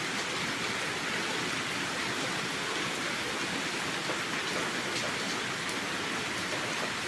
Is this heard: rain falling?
yes